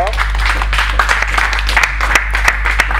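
A hall crowd applauds a student called up at a university event, the clapping dense and continuous under a loud announcer's voice speaking over it throughout.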